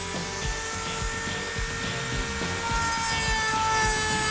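A Dremel rotary tool running a high-speed cutter accessory gives a steady, continuous high-pitched whine with a constant buzzing drone, close and loud throughout without pause.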